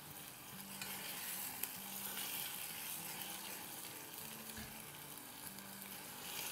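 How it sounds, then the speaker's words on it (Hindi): Onions fry in a pan for an egg bhurji, giving a quiet, continuous close sizzle with faint stirring scrapes and a few low hums in the background. "बस प्याज़ों को हम जब तक फ्राई करेंगे जब तक कि अच्छी सी सॉफ्ट ना हो जाए।"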